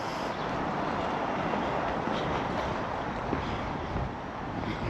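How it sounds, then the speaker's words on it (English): Steady outdoor breeze outside a football stadium in Mallorca, a continuous broadband wind rush buffeting the microphone with no voices. "Getting a bit breezy too, which is quite welcome."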